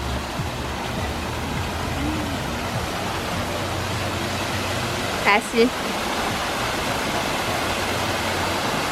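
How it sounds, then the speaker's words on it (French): Cascades at a swimming pool pour in a steady, unbroken rush of running water that fills the scene, with a brief voice heard once near the end. "Regardez les cascades."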